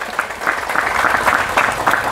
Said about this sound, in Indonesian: Sekali lagi tepuk tangan untuk para santri.